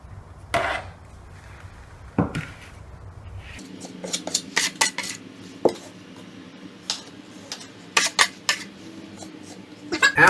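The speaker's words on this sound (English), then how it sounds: "This is the smallest mudding knife that I have, so that's what I'm using." A small mudding knife scraping joint compound onto sheetrock to close a hole, a series of close, sharp scrapes and taps in irregular rhythm over a low background hum.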